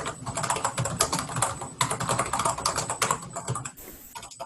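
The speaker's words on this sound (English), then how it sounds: "Yep, I'm a loud typer." Loud, fast typing on a computer keyboard, a dense continuous clatter of keystrokes with short pauses, close to the microphone and heard alone.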